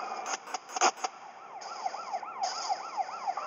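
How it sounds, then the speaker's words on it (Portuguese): An ambulance siren in the video game GTA San Andreas wails in repeated rising and falling sweeps for the last two seconds. It follows a cluster of sharp, loud bursts at the start. "Vai embora, ambulância."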